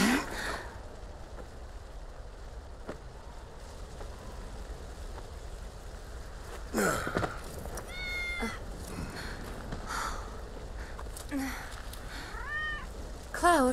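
A cat in the Final Fantasy 7 Remake game meows several times, short rising and falling cries spaced across the stretch, over a soft rainy ambient bed with a few brief thumps.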